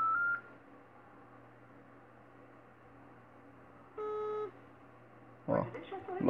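An Android phone emits call tones while dialing a blocked number: a short beep, then a steady electronic tone burst, followed by a louder rustling or handling noise, all fairly faint in a quiet room.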